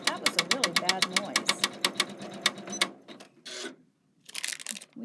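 An embroidery sewing machine runs in a rapid, even series of needle strikes, then falters and stops with a scraping, grinding noise before a brief burst of stitching resumes. Close and clear, with a voice talking over it.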